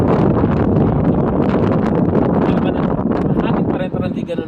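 Snowstorm wind roars and buffets the microphone in a dense, loud, continuous rush that nearly covers a voice talking underneath.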